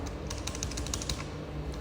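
Quick, light keystrokes on a computer keyboard while a command is entered on an Ubuntu server. The typing is soft and steady over a faint room hum.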